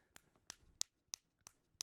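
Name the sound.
person doing an odd kind of clapping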